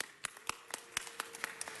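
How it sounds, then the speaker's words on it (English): Sparse, uneven clapping from a few people at a city council meeting, quiet and brief with irregular hand claps in a large room. "Let's give them a round of applause."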